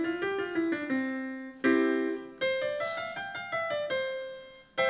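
Simple piano melody with chords played at a steady, careful pace, notes struck one phrase at a time with brief pauses between.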